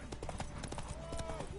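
Horse hooves clip-clopping in The Witcher 3 video game, a brisk, close, rhythmic run of hoofbeats with a voice speaking over them.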